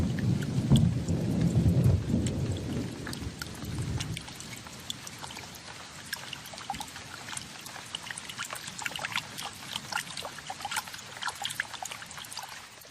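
Heavy rain pours steadily while a deep thunder rumble rolls through the first few seconds, then fades, leaving the downpour with scattered drips.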